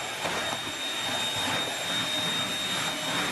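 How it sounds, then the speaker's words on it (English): A household vacuum cleaner drones continuously at close range during bedroom cleaning, a loud, even whine with slight fluctuations as it moves. "Then I vacuumed some more."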